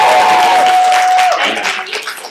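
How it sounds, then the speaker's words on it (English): A poetry slam audience breaks into dense, loud applause for a performer. It thins and fades after a second or so. "How about a round of applause for Allison?"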